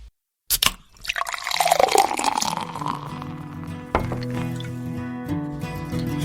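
Beer being poured gives a sudden splash, then a gurgling, bubbling stream of liquid rising in pitch as the glass fills, with a steady fizzing pour continuing to the end.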